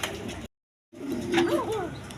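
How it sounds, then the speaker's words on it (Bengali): A pair of Bashiraj pigeons coo softly, a short rolling coo rising out of steady background noise after a brief silent gap. "দর্শকবিন্দু এখানে এক পেয়ার বাসিরাজ কবুতর আছে দেখ বাসিরাজ কোকা কবুতর"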